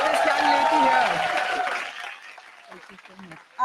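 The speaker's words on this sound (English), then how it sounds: "Let's hear a louder roar of applause for this young lady here." Audience applause and cheering at a women's festival stage event as a young drummer returns on stage: loud, dense clapping that fades away within a couple of seconds, followed by a voice speaking.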